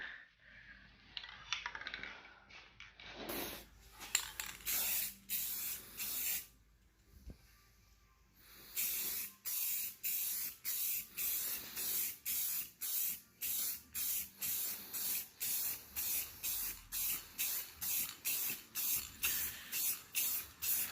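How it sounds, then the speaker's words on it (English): A Rust-Oleum clear coat spray can sprays a Honda Prelude in a long hiss, then a pause, followed by a steady run of short, rhythmic bursts, loud and close with no talking. "The thing about this clear coat Rust-Oleum is after a while finger hurts. It doesn't spray wide."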